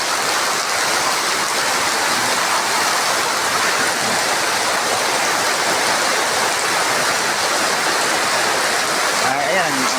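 Steady evening rain falls in Kidapawan, a dense, even hiss of water pouring without pause, close and loud, with a faint rushing quality like running water throughout.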